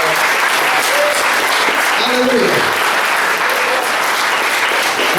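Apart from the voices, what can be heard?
church congregation applause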